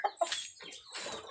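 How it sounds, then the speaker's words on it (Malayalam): Roosters clucking softly nearby, a few short faint clucks with small gaps between them. "നമ്മുടെ പൂവന്മാർ"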